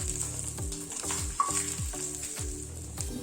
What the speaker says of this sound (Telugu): నేను ఆనియన్స్ కూడా ఇలా ఫ్రై చేస్తున్నాను లైట్గా.